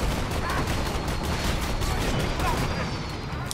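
Rapid gunfire from Borderlands 2 rattles without pause, dense overlapping shots and bursts at steady loudness, with a voice talking over the shooting.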